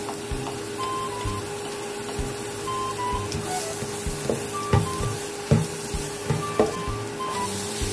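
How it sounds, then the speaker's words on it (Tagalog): Garlic sautés in a hot pan with a constant close sizzle, broken by a few soft knocks and stirring taps, with no talking. "mainit na yung ating pan. Maggisa na tayo. Lagyan natin yung ating garlic."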